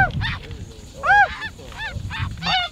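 A flock of snow geese honks overhead during a South Dakota hunt, repeated overlapping nasal calls in quick bursts, fairly close and clear over a low background.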